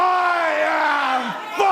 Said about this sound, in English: Really roar with me, people. Let me hear you roar.